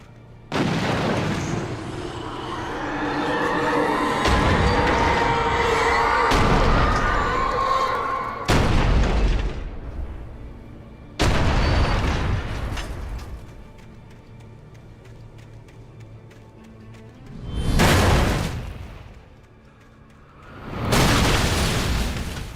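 Repeated heavy explosions from missiles and artillery-like blasts in Alan Wake Remastered, loud booming bursts spaced several seconds apart with rumbling decay between them.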